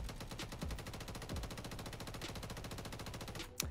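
Sustained automatic fire from a Sidewinder LMG in MW3 Zombies, a rapid unbroken rattle of shots lasting several seconds, loud and close, with no talk.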